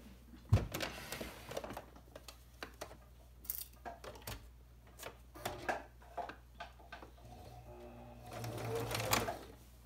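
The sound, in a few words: sewing machine stitching elastic on a scrub cap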